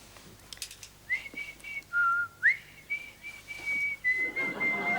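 A person whistles in a doctor's consultation room instead of coughing, a thin wavering tune of several held and sliding notes, moderately close and fairly quiet, with faint rustling beneath.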